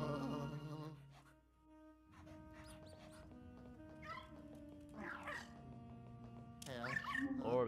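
Polterpup, the ghost dog in Luigi's Mansion 3, yips and whimpers in short high bursts over a soft, sustained game music bed, the calls coming in scattered clusters and growing louder near the end.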